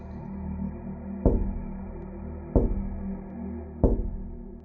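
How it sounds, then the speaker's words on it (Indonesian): Three sharp single knocks on a glass window land at even intervals of a little over a second, each followed by a short ringing decay over a low, steady background hum. "itu adalah suara sesuatu mengetuk jendela kaca"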